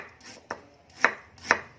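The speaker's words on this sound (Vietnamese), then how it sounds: "Gừng thì các bạn sẽ xắt hơi lát như vậy nè" A knife slices fresh ginger into thin pieces on a cutting board: three crisp, close chops, evenly spaced about half a second apart, with no talking.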